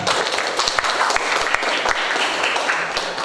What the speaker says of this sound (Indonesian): Tepuk tangan untuk Juan.